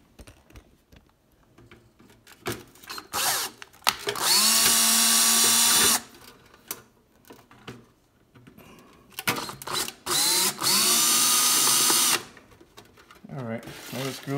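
A power drill backs screws out of a toaster casing in two sustained high whirring bursts, each lasting about two seconds. Clicks and handling noises fall between them, close up.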